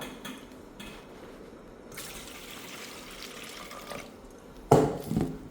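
Shrimp being rinsed in a bowl of water during kitchen prep, with a steady low trickle and sloshing throughout that swells into a louder splash near the end.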